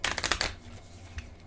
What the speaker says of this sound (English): they're going to shuffle their deck